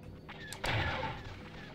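Ion cannons firing at a Star Destroyer in the Star Wars X-Wing video game, heard as a couple of short zapping shots followed by a louder blast that fades out.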